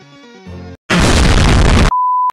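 Cartoonish cannon blast in the Sakura School Simulator video game: a loud, broad burst lasting about a second after a short musical jingle, ending in a brief electronic tone.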